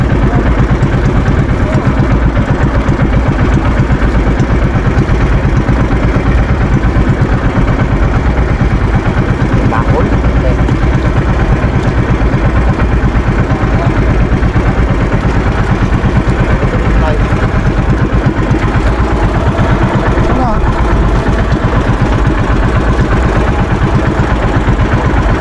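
A fishing boat's engine runs steadily and loudly for the whole stretch, a continuous chugging drone with clattering texture, while people talk over it.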